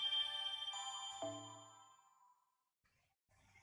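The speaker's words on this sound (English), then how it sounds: "Oh, I'm getting a phone call." A phone chimes for an incoming call with a bright ringing tone, two struck notes that ring out and fade to near silence, then a faint rumble of background noise.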